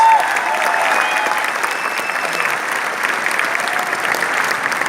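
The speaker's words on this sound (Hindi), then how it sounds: "बजाइए अपने लिए जोरदार तालियां।" Sustained applause from a large audience at a motivational training event in Delhi, steady and dense clapping filling the whole stretch with no voices breaking through.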